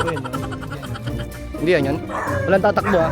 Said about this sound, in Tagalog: Yan o, ang daming aso dito.